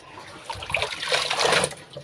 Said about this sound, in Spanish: ya voy a echar mi ropa para enjuagarla